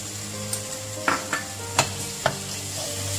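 Garlic and ginger frying with onions in a karahi for Punjabi chicken karahi, a steady close sizzle broken by several sharp scrapes of stirring, no talking.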